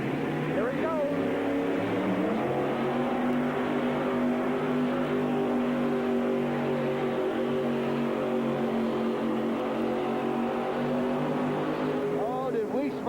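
A 1989 USHRA monster truck strains through a pull at St. Louis, its engine droning loudly and steadily with rising and falling revs, close and continuous, before a clutch gives out and smokes at the end.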